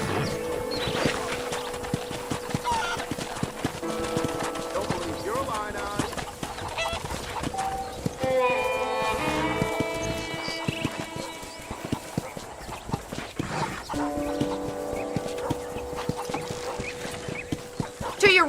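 Horse hooves clip-clop at a steady walking rhythm in the Red Dead Redemption video game on a ranch, mixed with other game sounds and fowl honks at moderate loudness.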